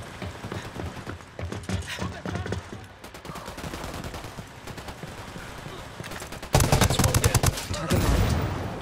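Gunfire in Ghost Recon Wildlands: bursts of rapid automatic shots, some distant and scattered, then a loud close barrage near the end.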